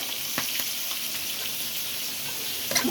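Spice paste with coriander and chili powder sautés in oil for a hilsa and raw banana curry, a close, steady sizzle broken by several quick scraping clicks of stirring.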